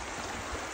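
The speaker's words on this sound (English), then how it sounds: "So as you can see, we're on a river over here" A river flows in Tuolumne County, California, at a late-fall gold prospecting spot, a faint, steady broadband rush of moving water with no talking.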